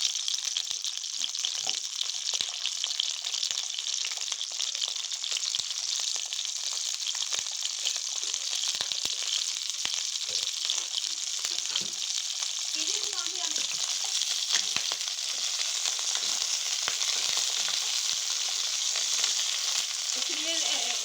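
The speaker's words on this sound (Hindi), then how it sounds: "इसलिए इसको हम रोस्ट कर रहे हैं, फ्राई कर रहे हैं ताकि ये अंदर से हमारे कबाब गल जाए।" Cauliflower kebabs fry in oil in a pan with a constant, bright sizzling crackle that stays close and even throughout, with occasional faint stirring scrapes underneath.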